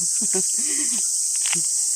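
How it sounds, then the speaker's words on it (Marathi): Crickets chirp in a loud, unbroken high-pitched drone throughout a village morning, while someone talks softly in the foreground. "बॅकग्राऊंडला आवाज रातकिड्यांचा"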